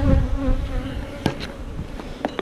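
Honey bees buzz in a steady droning swarm around an open, honey-bound hive during maintenance, with a few sharper clicks and knocks of hive tools and frames.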